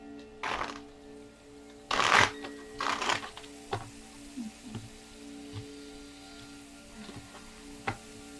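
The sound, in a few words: shuffling tarot cards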